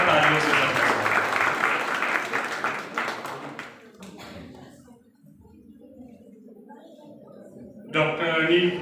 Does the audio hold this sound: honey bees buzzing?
no